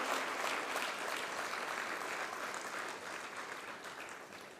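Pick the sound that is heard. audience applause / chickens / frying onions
audience applause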